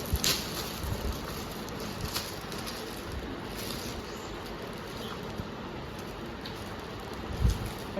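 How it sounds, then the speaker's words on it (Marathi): Heavy rain pours steadily outdoors at night during Diwali, a dense continuous hiss with a few louder splashes and gusts, no voices. "लक्ष्मीपूजन आणि पाऊस बघा कसला पडतं."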